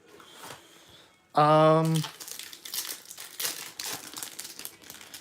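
Crinkling and tearing of a foil Yu-Gi-Oh card pack wrapper as it is opened, a sharp loud rip followed by a few seconds of softer crumpling and rustling close by.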